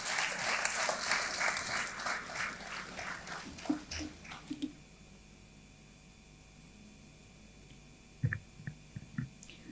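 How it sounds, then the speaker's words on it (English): Audience applause for the choir organiser at a school concert celebrating a girls' high school centenary, moderate clapping that fades out after about four seconds, followed by quiet room tone and a few scattered knocks. "Let's give her a round of applause, ladies and gentlemen."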